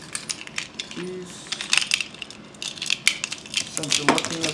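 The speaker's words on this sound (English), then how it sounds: "Keys." Car keys jingle close by in short, bright metallic rattles, quiet at first and clinking again near the end.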